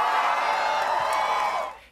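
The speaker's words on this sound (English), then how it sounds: "they're applauding people making less" A crowd applauds and cheers loudly and steadily for about two seconds, with whoops over dense clapping, then fades out at the end.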